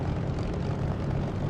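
A Spitfire's propeller engine drones steadily and loudly at low revs while taxiing in a flight simulator game, a dense, unbroken rumble with no other sounds.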